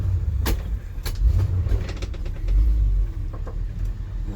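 Warm pickup truck engine cranking and struggling to catch on a farm, with a low, uneven, sputtering rumble and several sharp clicks and knocks close by.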